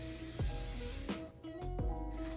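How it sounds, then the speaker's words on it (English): Hair spray hisses in short bursts onto wavy beachy curls, a few separate close spritzes with brief pauses between them. "So I'm just going to use a little bit of the spray"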